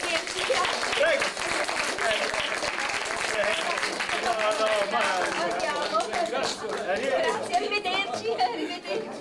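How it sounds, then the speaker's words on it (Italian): Audience at a congress applauding, a dense, steady wash of many hands clapping throughout, mixed with crowd chatter and voices. "Quindi io saluterei i signori Antropus con un bel applauso."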